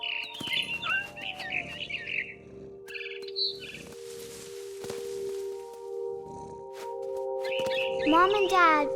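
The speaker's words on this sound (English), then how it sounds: "Then I heard chirping outside my window. It was a barn swallow going back to her nest." A barn swallow chirps in the video game What Remains of Edith Finch, a run of bright, quick tweets near the start and again at the end over a low sustained game tone, with a voice narrating.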